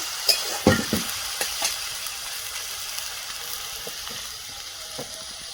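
A little water is poured into a frying potato and pea chop mixture as it is stirred in the pan, giving a steady sizzle with a few sharp clatters of the utensil near the start that then settle into softer frying noise.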